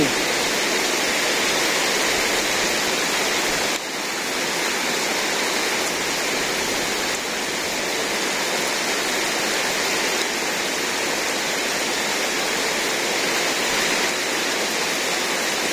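Heavy rain pours steadily during a village storm, a dense continuous roar of water with no pauses, close and loud throughout.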